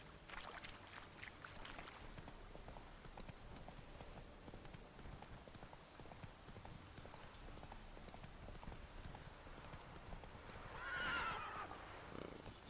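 Roach the horse in The Witcher 3, hooves clip-clopping in a steady gait through the clip, followed by a clear neigh near the end, moderately close over soft ambient game sound with no talking.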